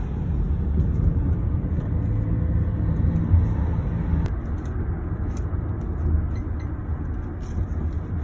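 A car travels fast through Macau, heard from inside as a steady, close low rumble of engine and road noise with no breaks, and no talk over it.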